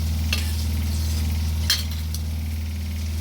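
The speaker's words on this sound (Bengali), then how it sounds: "এবার আমি এর মধ্যে ডালটা দিয়ে দেব।" Boiled dal being stirred into cooked spiced vegetables in a pot, a steady low sizzle with a couple of brief scraping stirs, close and fairly loud with no talking.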